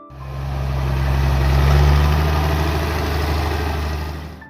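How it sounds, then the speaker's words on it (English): An International Harvester 856 tractor, built between 1967 and 1971, idles with a deep, steady low engine rumble that swells gently and then fades slightly, close and continuous with no voices. "When the engine comes to life, the sound is deep and deliberate, not sharp or rushed."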